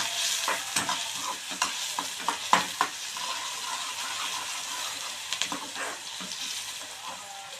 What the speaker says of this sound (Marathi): आपण यात कांदा टाकून घेतलेला आहे आपण असं हे परतून घेऊया